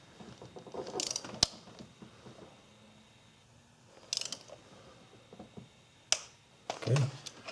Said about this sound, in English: once you get them in, torque them up to 15 foot-pounds.